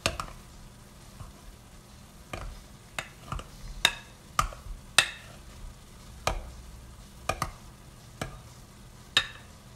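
Cooked, salted potatoes are mashed in a pot, with irregular soft thuds and squelchy presses, quiet and close, separated by short pauses.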